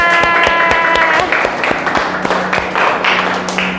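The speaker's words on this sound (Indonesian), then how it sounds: "Oke, tepuk tangan" A classroom audience of students and teachers applauds with dense, loud, sustained clapping that has a few sharp individual claps on top and faint voices underneath.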